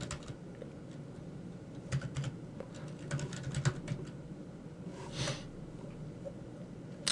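Soft keystrokes tap out on a computer keyboard in short irregular bursts, quiet and close, with a brief rustle partway through.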